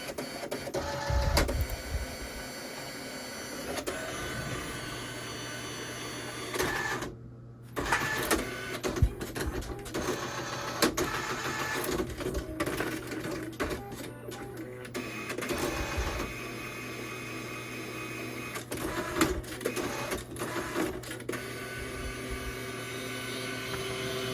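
An Alps printer runs through a long job printing custom model railroad decals, its print head whirring and clattering in steady passes with a brief pause partway through, close and continuous with no talk.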